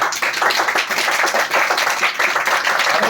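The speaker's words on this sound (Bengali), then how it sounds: "এই হাততালি কোথায় তোদের" A class of people claps together in a room, loud rapid handclaps blending into continuous applause that holds steady throughout.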